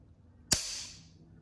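A single sharp metallic snap of a rifle trigger releasing on a HOWA HACT trigger, close and crisp, with a short ringing decay in an otherwise quiet room.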